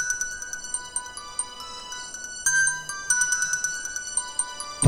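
A phone ringtone plays a bright electronic melody of repeating beeping notes, loud and close, with no talking.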